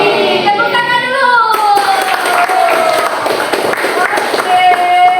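Classroom clapping from a high school history class, a brief burst of many hands slapping together at close range, mixed with children's voices and chatter throughout.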